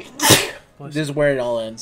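A single sharp human sneeze bursts out near the start, close and loud, followed right away by a person speaking.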